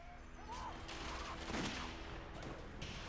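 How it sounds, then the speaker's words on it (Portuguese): Battle sounds of gunfire and cannon shots ring out in a faint, crackling fusillade of scattered bursts, kept low beneath a voice speaking over them. "De cima da muralha, o lançamento de flechas e tiros de canhão."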